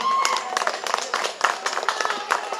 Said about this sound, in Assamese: সকলোকে পুনৰবাৰতে হাত চাপৰি